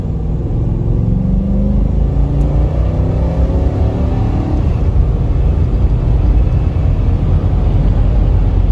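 A first-generation Toyota Sequoia V8 SUV accelerating, its engine a steady, loud low rumble with rising harmonic sweeps that swell as the revs climb, with no voices.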